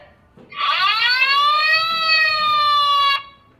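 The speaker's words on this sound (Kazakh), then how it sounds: "Өрт сөндіруші көлігі" A single loud, close fire engine siren wail rises quickly and holds a steady tone for a few seconds before stopping sharply.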